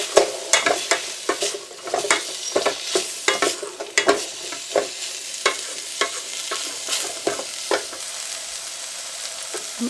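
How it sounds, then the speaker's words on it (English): Garlic and ginger sizzle in a pot of hot oil as a spoon scrapes and stirs through them in a steady, irregular rhythm of clicks, all close and fairly loud with no voices. "3 cloves of garlic, and about 1 inch of ginger. And I'll give this a stir."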